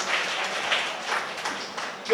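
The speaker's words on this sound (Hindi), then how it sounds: "जोरदार तालियों के साथ स्वागत है" An audience at an educational society gathering applauds to welcome a speaker, a diffuse, fairly faint wash of clapping that swells and fades, with a voice speaking over it.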